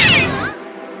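Cartoon cats let out a loud, high-pitched meow-like yowl that sweeps downward and cuts off after about half a second, followed by quiet.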